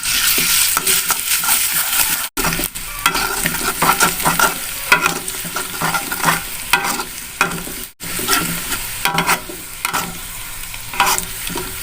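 Ground spices such as chili powder, bouillon powder and pepper sizzle in hot oil while being stirred, giving a continuous crackling fry broken by irregular scraping strokes, close and fairly loud.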